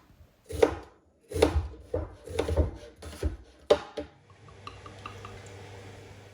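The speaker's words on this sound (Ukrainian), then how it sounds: "нарізаю її соломкою." Crisp knife strokes slice an onion into thin strips on a board, several uneven cuts close up, then a faint steady hum remains.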